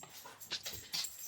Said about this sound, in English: My dog is in a very feisty mood.